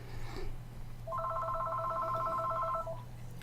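A telephone rings in a pool hall venue, one trilling electronic ring of about two seconds over a low steady hum, fairly clear and with no talk.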